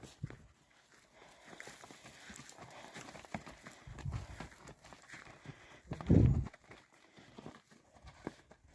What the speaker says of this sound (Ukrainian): Проводжаємо кобил. Шагом, Сільва! Шагом, шагом!